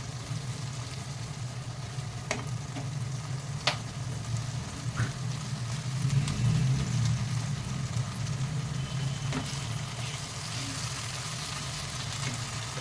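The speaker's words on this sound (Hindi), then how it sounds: "ये टमाटर को थोड़ा भून लेंगे हम" Tomatoes with salt frying in a pan for a cauliflower sabzi, giving a steady low sizzle that runs unbroken throughout, with a few faint clicks and taps from the stove area.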